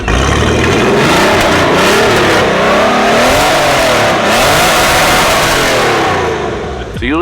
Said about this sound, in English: So usually when a car idle hunts like that, it's running lean